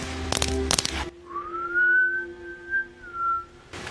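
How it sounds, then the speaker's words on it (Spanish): A single sustained whistle glides up and holds a steady tone for about two seconds, then dips, heard fairly close after a burst of tapping noises. "escuché una especie de silbido"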